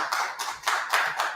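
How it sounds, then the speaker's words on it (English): A Purim night crowd claps hands together in a steady rhythm of loud, close bursts. "Clap it up."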